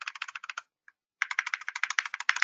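Rapid keystrokes on a computer keyboard during a software demo, a quick burst of clicky taps, a brief pause, then a longer steady run of typing, close and clear with no talk.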